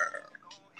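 A teen girl lets out a loud, drawn-out burp, close and wet, ending in a second gassy swell, with no speech over it.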